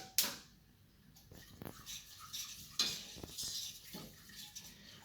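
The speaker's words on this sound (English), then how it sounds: "And all I need to do here is whisk until it's thick" Passion fruit pavlova mixture whisked in a pan over heat, heard as soft, irregular metallic scrapes and clinks of the whisk against the pan, with a few sharper knocks, close and fairly quiet.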